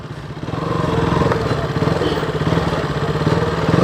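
A motorcycle engine runs steadily close by while the bike is being parked at a temple in Surat, Gujarat, a continuous low throbbing putter with slight clatter that rises after a soft start.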